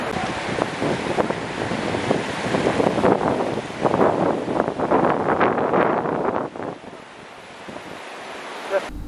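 The Indus River rushes past its bank in a loud, continuous roar mixed with gusts of wind buffeting the microphone, easing somewhat near the end.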